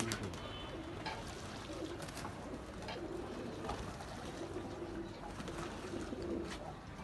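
Flying male pigeons coo softly and continuously, faint and somewhat distant, over a steady background hiss as they come down to bathe.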